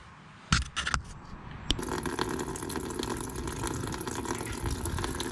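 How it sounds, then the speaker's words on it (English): Water draining out of the sills of a Sprinter campervan, starting after a few sharp knocks and scrapes, then a steady close trickle and gush that carries on. "here's a clip of me taking the water out of the sills of my van."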